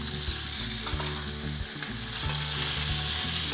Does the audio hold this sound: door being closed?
no